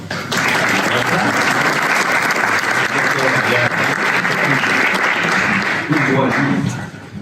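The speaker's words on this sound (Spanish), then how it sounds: "un aplaudiment molt fort" An audience at a book presentation gives a strong, continuous round of clapping lasting about seven seconds, with a voice or two faintly audible beneath it.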